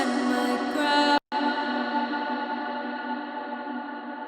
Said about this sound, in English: Some sort of phaser, flanger effect on it.